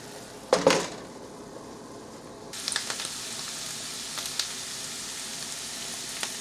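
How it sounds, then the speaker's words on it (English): Mushrooms and onions sauté in a hot pan with a steady, close sizzle. A brief clatter of stirring comes first, then the frying hiss rises and carries on evenly to the end. "now that we got the mushrooms and the onions mixed together, we'll let those continue cooking"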